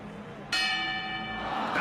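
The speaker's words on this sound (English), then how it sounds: "And there's the bell!" A boxing round bell in an animated championship bout strikes once sharply and loudly, its bright metallic ring sustaining and slowly decaying over a low murmur of crowd noise.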